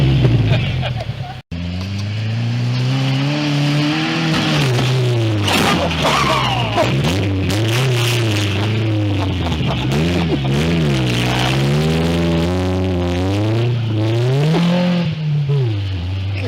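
A loud Ford Ranger truck engine revs and drones continuously, pitch rising and falling in waves, with voices talking over it.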